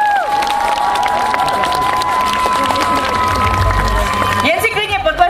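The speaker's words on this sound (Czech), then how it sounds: "Jen si klidně potleskejte ještě víc" An audience at a dance event applauding and cheering, steady crowd clapping mixed with shouts and a sustained tone, loud and close, with voices heard over the noise.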